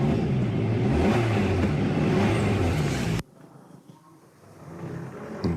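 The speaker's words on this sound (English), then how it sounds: "the second noise I'm going to make is just revving the engine." A car engine revs loudly and steadily for about three seconds, then cuts off sharply, leaving a quiet low rumble with faint background noise.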